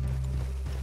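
Horse hooves clip-clopping in the video game Red Dead Redemption 2, a brief, steady patter heard over a low rumbling game soundscape.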